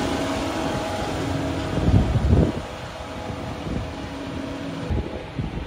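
Wind blowing across open farmland, a steady broadband rush with buffeting against the microphone, swelling into a stronger gust midway before settling back to a continuous blow.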